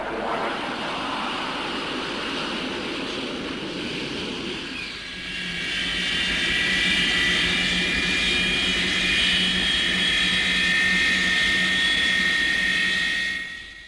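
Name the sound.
Super Sabre supersonic jet fighter flying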